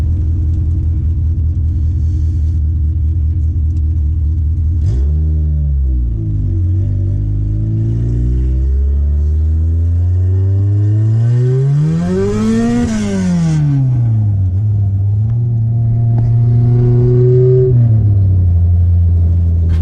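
A 2000 Honda Civic Si EM1 drives on its first run after a clutch repair, its engine rumbling loudly up close, revving up and down through several gear changes with a high climbing peak, no talking.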